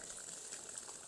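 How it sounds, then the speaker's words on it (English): Water trickling from an adjustable drip irrigation emitter turned down to a light drip beside a newly planted shade garden plant, a steady soft hiss close by with no talking. "So I'm going to change them to just kind of a little bit of a drip like that."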